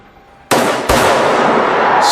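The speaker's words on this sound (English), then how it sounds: "Gunshots ring out." Two sharp, loud gunshots in quick succession, the second followed by a sustained roar of noise that carries on to the end.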